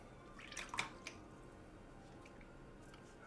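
Water drips a few times as acrylic paint is thinned for miniature edge highlighting: faint, soft drops clustered near the start, then near silence.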